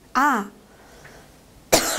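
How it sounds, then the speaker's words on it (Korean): Two sharp coughs, close and loud, separated by a short quiet pause. "기침이 자꾸 나오네요"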